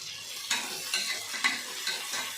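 Onions fry with salt for biryani, with a soft sizzle under repeated scraping strokes of a spoon against the pan about twice a second. The sound is close-up, with no voices.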